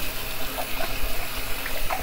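Water runs from a bathroom sink tap being heated up for a wet shave, a steady splashing stream close by with small gurgles and drips, fairly soft and with no voices.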